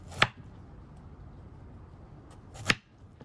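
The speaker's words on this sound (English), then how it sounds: "I'm gonna cut it in half now, like this" A knife slices through opo squash on a cutting board with two crisp, separate chops about two and a half seconds apart, against a quiet background.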